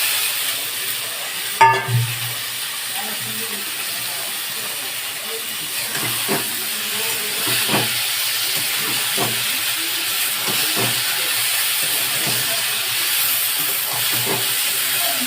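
Boiled taro flowers fry in a pan with a steady, close hiss and sizzle, broken by a sharp clatter early on and soft stirring scrapes, with no talk over it.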